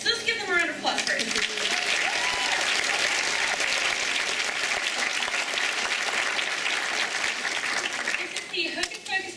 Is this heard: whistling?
no